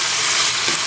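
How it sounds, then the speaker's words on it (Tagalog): Bitter melon with salted black beans sautéing in a pan, a steady, loud broadband sizzle that holds continuously for the whole second with no voices. "mag-gisahin pa natin ito"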